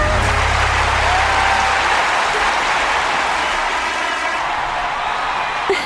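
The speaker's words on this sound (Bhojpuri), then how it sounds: "अपना बर्थडे पर भी इतना ताली हम ना सुनले रहनी" Loud, dense applause from a crowd at a birthday gathering, the clapping steady and close for several seconds before easing slightly toward the end.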